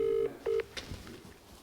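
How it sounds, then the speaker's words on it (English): WhatsApp video call ringback on a phone, two short electronic tone pulses followed by quieter clicks and handling noise, brief and fairly close. "I'll phone you on WhatsApp."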